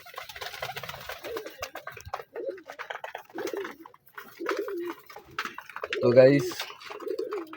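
Lotan pigeons coo in a loft, soft repeated throaty calls that swell loudest near the end, heard close under someone speaking throughout.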